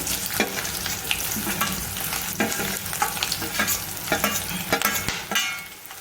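Onions with garlic fry in a pan for corn chilli, a constant close sizzle with frequent rhythmic spatula scrapes and taps against the pan.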